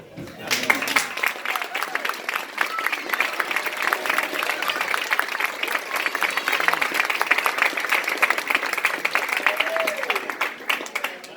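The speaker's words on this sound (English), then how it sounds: "You heard the applause, Mark." Audience at a retirement party for a church minister of music at First Baptist Church fills the room with sustained, dense clapping and cheering, with voices mixed into the crowd noise throughout.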